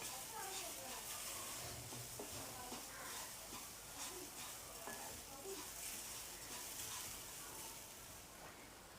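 Grated coconut is roasted lightly in a pan for a sweet rice-flour dumpling filling, giving a soft, continuous sizzle and hiss with gentle stirring, fairly quiet, while someone talks faintly.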